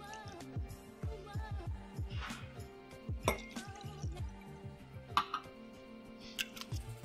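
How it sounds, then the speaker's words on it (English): A double shot of Campari is poured over finely crushed ice in a glass for a coffee cocktail, giving close, soft trickling and dripping with scattered crisp ice clicks and crackles over several seconds. "now we want to start by adding 60 mils, a double shot of Campari"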